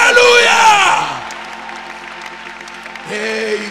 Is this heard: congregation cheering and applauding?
yes